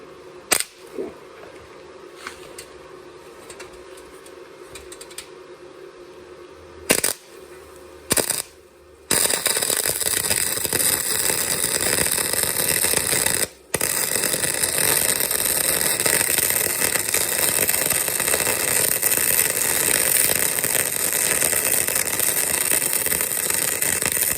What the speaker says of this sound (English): Now we can start welding.